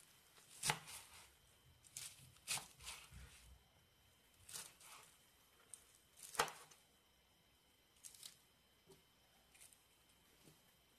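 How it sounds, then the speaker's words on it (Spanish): Lettuce being chopped into small pieces on a cutting board, a series of quiet, irregular knife taps and crisp cuts, some in quick pairs, with pauses between. "Y la vamos a dejar en trozos así pequeños."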